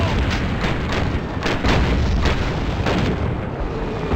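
Mortar explosions in the Call of Duty PC game boom one after another in a dense, continuous barrage. Heavy low rumbling blasts overlap with no pause throughout the battle scene.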